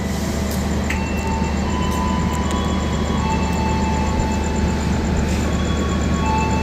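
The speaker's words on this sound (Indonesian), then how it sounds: "di jalur 3 ini akan segera datang kereta api Malabar dari Bandung tujuan Malang" Malabar train from Bandung pulling into a station platform, a steady low rumble of rolling wheels and engine with faint metallic squeals and clicks over the continuous drone.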